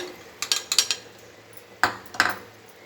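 A spoon clinks against a bowl while poppy seed paste, melon seeds and cashew masala are mixed together, a few quick close taps in two short bursts, with no talk.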